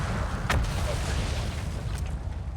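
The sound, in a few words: explosions in the video game Outer Wilds, Brittle Hollow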